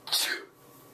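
A single sharp human sneeze, close and abrupt, followed by a quiet moment.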